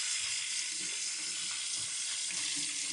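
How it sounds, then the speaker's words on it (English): Steady stream of tap water runs continuously over a bunch of fresh cilantro being rinsed, a constant hiss with no talking. "You want to rinse it out because usually it's got dirt in it."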